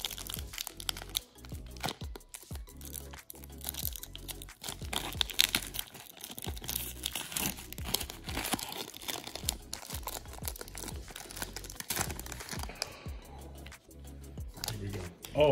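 A Japanese Pokemon VS series card pack wrapper is opened carefully, with close crinkling, rustling and small tearing sounds of foil over several seconds, while people talk quietly in the background.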